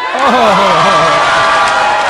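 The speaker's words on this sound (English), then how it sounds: "And they cheering" A crowd at a political speech cheering and shouting loudly, a dense sustained roar of voices with whoops rising over it, continuing without a break.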